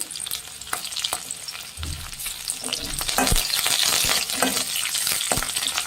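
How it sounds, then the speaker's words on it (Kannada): Green chilies and curry leaves crackle and hiss in hot oil for chicken 65, with a spatula stirring and knocking against the pan now and then; the sizzle grows louder midway and stays close, with no talking. "ಫ್ರೆಂಡ್ಸ್ ಇದನ್ನೆಲ್ಲ ಫ್ರೈ ಮಾಡಬೇಕು"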